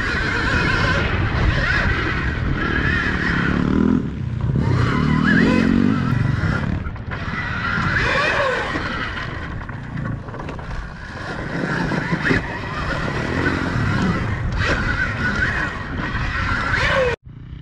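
A heavy Suzuki DRZ motorcycle rides across wet grass on bald tires, its engine droning and revving steadily and fairly close throughout before cutting off abruptly at the end.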